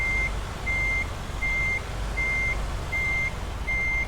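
A truck in American Truck Simulator backs up with its reversing alarm beeping in a steady, evenly spaced rhythm over a constant low engine rumble, with no one talking.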